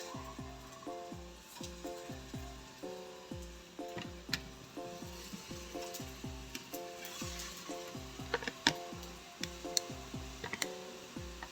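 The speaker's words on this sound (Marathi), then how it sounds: "आपण ह्या टिक्क्या ज्या आहेत हे मी पॅनमध्ये तेल ठेवलेलं आहे, ह्याच्यामध्ये आपण शॅलो फ्राय करणार आहोत" Matar tikki shallow-fry in oil in a pan, a faint continuous sizzle with scattered small pops and ticks throughout, and no speech.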